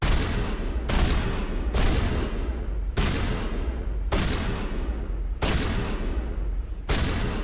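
A pistol fires again and again at a target in Mass Effect, with loud, evenly spaced shots roughly every second, each one booming and decaying into the next, and no talking.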